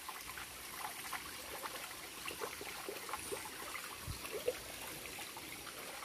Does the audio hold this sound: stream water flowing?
yes